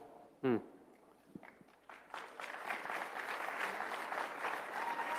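An audience at the CPAC political conference breaks into applause after a brief voice and a few scattered sounds, the clapping swelling and holding steady and moderately loud.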